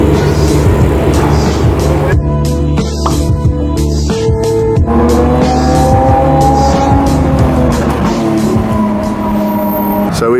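A Ferrari 488 Spider and a Lamborghini Huracán pull away, loud engines revving and roaring up through the gears with a brief tyre chirp, sounding close and then easing off as they drive away.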